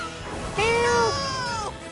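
A pet cat named Luna lets out one clear, drawn-out meow at close range, rising then falling over about a second, with a quieter trailing cry after it and no talking.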